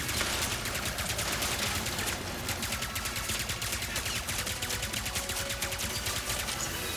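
Rapid, sustained weapon fire in the video game Ratchet and Clank: Rift Apart, dense bursts of shots ringing out in quick succession over a busy game soundscape for several seconds.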